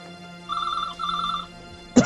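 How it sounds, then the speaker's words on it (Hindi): A telephone rings in two electronic trilling bursts with a short pause between them, followed by a sharp click, like a receiver being picked up. "प्लीज रोहित को फोन करो।"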